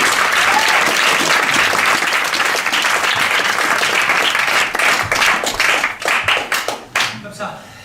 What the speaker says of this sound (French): On applaudit Miss Monroe